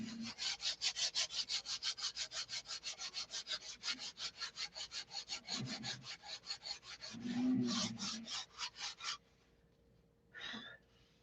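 Hand sanding of a wood piece with 60-grit sandpaper makes fast, rhythmic back-and-forth rasping strokes, close and fairly loud, that pause briefly, resume, then stop with one last short stroke.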